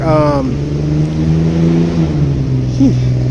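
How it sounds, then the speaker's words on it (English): A loud truck rumbling past outdoors, a heavy, steady engine drone with a shifting pitch that fills the whole stretch, close and dominant. "loud truck."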